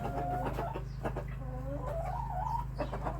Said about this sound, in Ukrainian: Це мій золотий півник